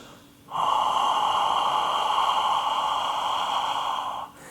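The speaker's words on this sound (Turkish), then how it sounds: "boğazı aktive ederek nefesinizi sesli ve sıcak çıkartmaya çalışın" A long, steady ujjayi breath is pushed through a narrowed throat, making an even, hollow hiss like an ocean sound. It is close and sustained for several seconds.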